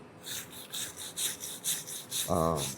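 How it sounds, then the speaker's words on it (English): Wire wheel scrubbing slag off a steel Jeep CJ frame being boxed in: a rhythmic, pulsing abrasive whir repeating several times, close, followed by a brief voice near the end. "Maybe I'll take a wire wheel and clean that out a little bit more."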